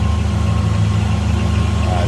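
A 1950 Mercury street rod with Offenhauser finned heads and intake and a Holley 4-barrel idles with a steady, deep rumble close by, while someone talks over it.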